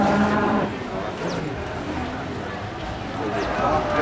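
Cattle at a livestock market selling sacrificial cows, with low moos rising amid crowd noise and a busy market bustle, while someone talks over the scene.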